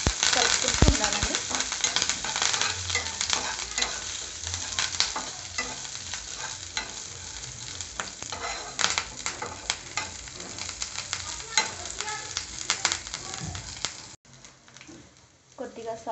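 Onions and curry leaves sizzle steadily in a pan while being stirred for a chickpea tempering, with a continuous frying hiss broken by frequent scraping strokes, then a brief quieter stretch near the end.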